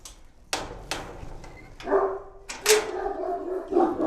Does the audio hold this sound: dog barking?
yes